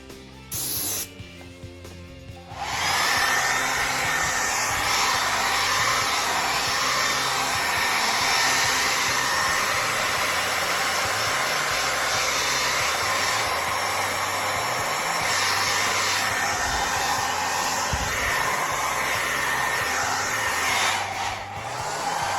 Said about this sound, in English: Not totally necessary to use a hair dryer